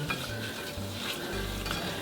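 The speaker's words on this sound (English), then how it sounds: "now I'm gonna whisk in over the heat my brown sugar" Brown sugar is whisked in a pan over medium heat, with a soft continuous scraping and stirring under a faint sizzle and low hum, heard close and without talk.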